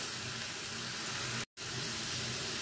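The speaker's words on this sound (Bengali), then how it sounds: "এবার একটু ভালো করে ভেজে নেব।" Onions fry in hot oil with a spoonful of sugar for a fish roe curry, a steady broad sizzle that holds loud and even, cut by one brief silent gap midway.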